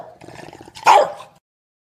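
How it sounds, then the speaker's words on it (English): A dog sound effect: a low growl builds into a single loud, sharp bark that rings briefly before cutting to silence. "Let's get the bark in."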